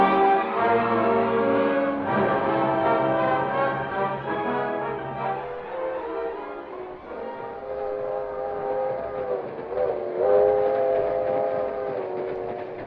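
A moving westbound train rolls on with a steady rumble while long, harmonic whistle blasts sound over it, muffled as if from an old radio drama broadcast.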